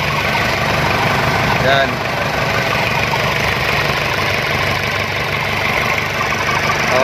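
An Isuzu Elf truck's 4HG1 diesel engine idles just after starting, following a cranking no-start fault. It gives a loud, continuous, close rumble and clatter throughout, with a brief word spoken over it.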